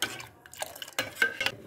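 A spoon stirs ragi flour into a drink, giving a few irregular, close clinks and scrapes against the vessel with short quiet gaps between them and no voices.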